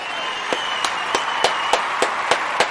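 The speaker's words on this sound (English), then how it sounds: "give all of our Kuumba babies a round of applause" An audience claps in unison for the Kuumba babies, sharp evenly spaced claps about three per second over a constant crowd murmur.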